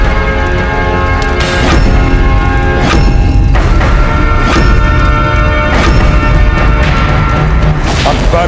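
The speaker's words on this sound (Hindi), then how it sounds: "अकबर के अपने खेमे में इतना बड़ा धमाका" Several heavy booms burst out over a loud, dense wash of dramatic music, each blast rumbling deep and filling the whole mix.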